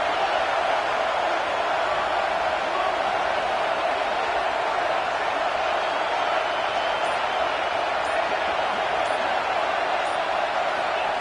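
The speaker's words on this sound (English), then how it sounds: "It's early, but this crowd is fired up. Listen to this noise here." A football stadium crowd roars in a steady, dense wash of noise at an early-season Week 14 game, loud and unbroken for the whole stretch with no single voice standing out.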